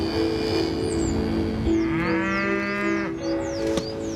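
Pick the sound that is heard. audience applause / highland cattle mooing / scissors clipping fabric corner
highland cattle mooing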